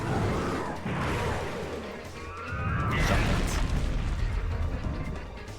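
Shotgun blasts in the Bayonetta action game, heavy booming shots with crashing impacts layered over dense game sound effects, loud and close across the whole stretch.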